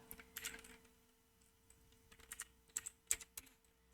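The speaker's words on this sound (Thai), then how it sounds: "พิมพ์คำว่าแชทบ็อกนะครับ" Quiet, close keystrokes on a computer keyboard tap out a single short word, irregular clicks clustered in small bursts with brief pauses, no talking.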